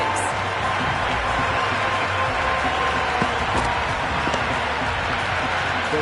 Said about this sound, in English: the crowd have joined the party. It's pretty noisy at the ground.